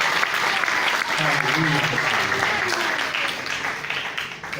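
Congregation clapping and cheering in a church in Burundi, a sustained wash of applause mixed with voices calling out, fairly loud and continuous, easing slightly toward the end.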